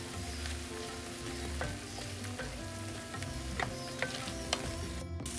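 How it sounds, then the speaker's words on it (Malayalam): Masala paste with salt frying in oil for a Kerala-style chickpea curry, a steady close sizzle with light spoon clicks and scrapes against the pan. "ഈ അരപ്പിലേക്ക് ഒരു 1/2 ടീസ്പൂൺ ഉപ്പും കൂടി ചേർത്താണ് അരപ്പ് മൂപ്പിക്കുന്നത്."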